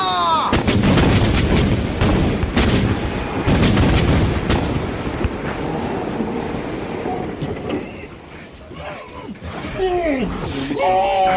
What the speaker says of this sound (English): Point your guns! Fire as they bear!